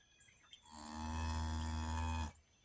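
A single long, deep cow moo, loud and close, swelling and holding steady for nearly two seconds before cutting off, with quiet surroundings.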